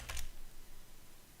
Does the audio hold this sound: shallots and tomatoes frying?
no